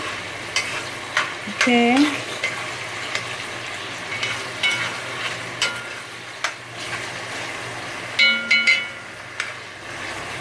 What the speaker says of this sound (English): So you're just gonna let those just saute up a little bit.